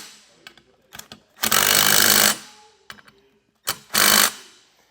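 A ratchet or power tool with a 9/16 socket tightens bolts while fitting SumoSprings helper springs on a 2014 pickup, in two loud sustained bursts separated by quieter clicks and taps.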